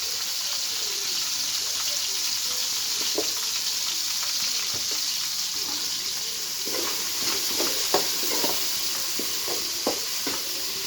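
Beans and carrots for upma frying in salted oil, a continuous bright sizzle with scattered clicks and scrapes of stirring, fairly close.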